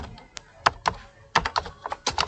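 Typing on a computer keyboard while writing in Microsoft Word, a series of close, crisp key taps in short irregular bursts with brief pauses between them.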